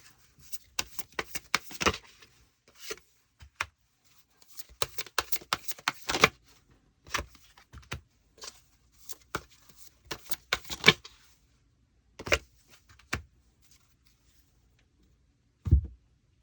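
Tarot cards are shuffled and drawn by hand in close, irregular bursts of soft flicks and taps, with quiet pauses between them and no talking.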